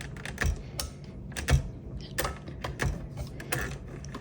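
Mechanical clicks and clacks from handling the carriage lock on a 1955 Olivetti Lettera 22 typewriter, with irregular sharp taps and a few heavier knocks up close and no talking.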